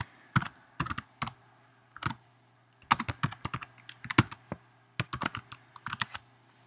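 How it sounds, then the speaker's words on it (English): Keys clatter on a computer keyboard in short irregular bursts of clicks with brief pauses between, close and clear in a quiet room. "And then I'm just going to start typing out here."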